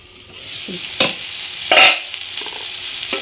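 Spice paste for a Bengali fish dish with red amaranth stalks is stirred and fried in a pan. A steady sizzle runs under the whole clip, with a few sharp scraping strokes of the spoon standing out. There is no talking.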